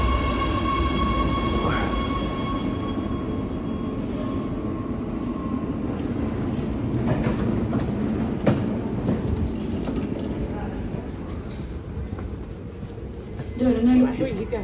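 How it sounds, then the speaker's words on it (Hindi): A train pulls into a station in Oslo on a winter night, a long steady rumble of wheels on rails with a sustained tonal whine and brakes near the end, while someone talks over it. "ये ट्रेन आ रही है।"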